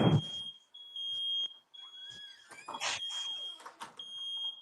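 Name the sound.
fire alarm beeping in a house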